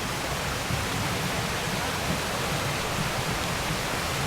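A waterfall at Little Baguio in San Vicente, Palawan, a steady loud roar of falling water with no break, close by and alone.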